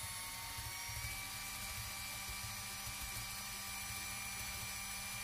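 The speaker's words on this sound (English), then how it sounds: "This was very satisfying to be able to slowly carve away pieces of foam with this drill and an Allen wrench." A handheld drill fitted with an Allen wrench slowly carves away pieces of foam, giving a steady, continuous whirring grind with a low pulsing rumble that holds evenly for the whole stretch.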